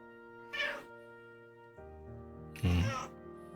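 A house cat meows loudly indoors, two drawn-out cries, the second louder and harsher, over a steady background of soft game music.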